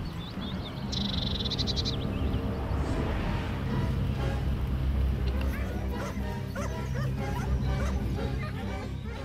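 Hunting dogs bay and yelp during a winter wild boar driven hunt in Bulgarian Balkan woodland, steady overlapping barks and whimpers at middle distance under continuous noise, with a brief high whistle-like tone early on.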